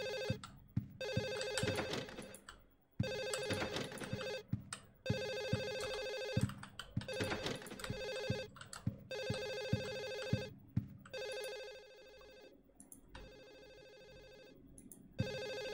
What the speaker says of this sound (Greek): Τηλέφωνο.